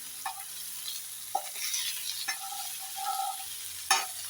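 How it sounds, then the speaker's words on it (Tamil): Fish frying in a pan right after being flipped, giving a steady close sizzle and hiss with a few sharp clicks of a utensil against the pan; no talking. "திருப்பி விட்டு நல்லா ஃப்ரை ஆகிற வரைக்கும் வெயிட் பண்ணுவோம்."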